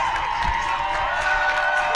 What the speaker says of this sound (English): There are the crowds as Sheffield Union come out.